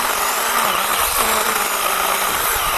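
A 20-volt ORBLON one-hand mini chainsaw with a 6-inch bar, powered by a DeWalt battery, cuts through wood with a sustained, loud buzzing motor whine and gritty chain noise, buried deep in the cut and never bogging down.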